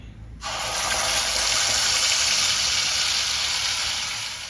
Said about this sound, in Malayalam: ഇനി അരപ്പ് ഒഴിച്ചു കൊടുക്കാം.